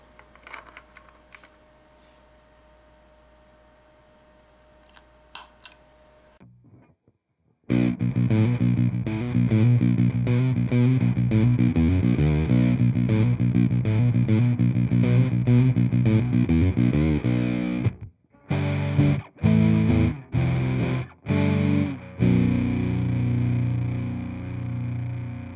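Electric guitar through a Big Muff Pi fuzz pedal modded with Schottky diodes, loud sustained distorted chords after quiet setup noises, ending in short choppy stabs with gaps.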